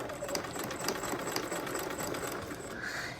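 A sewing machine stitches a lined yoke with a fast, steady mechanical rattle up close, running continuously and easing off near the end.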